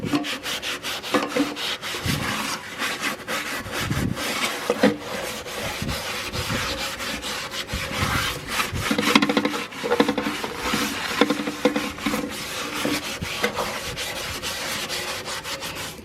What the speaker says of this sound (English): I'm gonna grab some sort of sponge and kind of scrub out the inside here